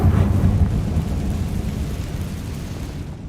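A Confringo blasting spell bursts in the game Hogwarts Legacy with a deep, booming explosion rumble that starts loud and rolls off gradually over about three seconds.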